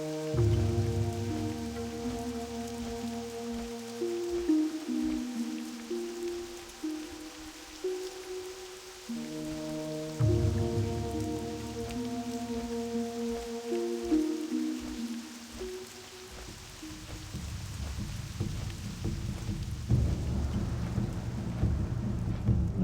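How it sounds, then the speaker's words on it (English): Steady rain with low rumbling thunder in Elwynn Forest in World of Warcraft, the downpour continuous beneath droning ambient music, with the storm swelling louder toward the end. "Classic raining in Elwyn, but bright and sunny here in Stormwind."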